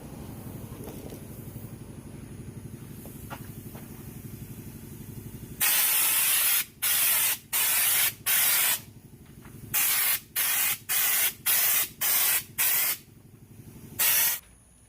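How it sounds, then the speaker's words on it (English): Loud bursts of hissing spray from a spray gun laying Lizard Skin coating onto a square-body truck floor, starting after a low compressor hum, with about a dozen short pulses separated by brief pauses. "if you lean the gun too far while spraying, it'll lose suction and not continue spraying"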